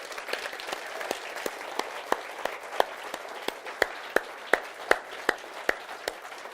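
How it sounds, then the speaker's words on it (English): A room of people applauds, a steady wash of clapping with a few loud individual claps standing out near the microphone. "I'd like you to give one more round of applause for Dr. Michael Shadow, if you would."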